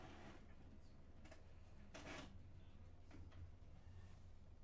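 An inkjet printer lets out a loud mechanical clunk, followed by a couple of softer knocks from its feed mechanism, over a steady low motor hum with no talking.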